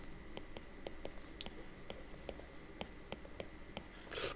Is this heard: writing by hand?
yes